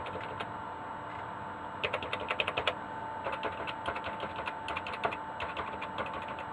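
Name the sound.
typing on SAM Coupe computer keyboard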